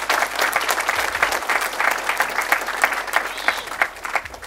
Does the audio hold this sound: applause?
yes